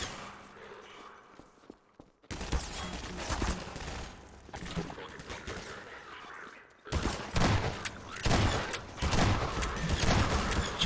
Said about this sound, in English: Shotgun was definitely more powerful than that other mod I played just now.